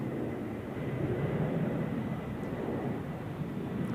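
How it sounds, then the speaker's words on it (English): Swiss Airbus A320 arriving from Geneva at Zurich Airport, a steady broad roar of jet engines, fairly distant and even in loudness throughout, with no talk over it. "So that's the Swiss A320 from Geneva."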